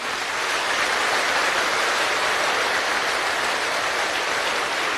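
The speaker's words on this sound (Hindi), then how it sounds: "जोर से तालियां बजाओ।" A church congregation claps loudly together at a Hindi-language worship service, a dense, steady wash of many hands that fills the space without pause.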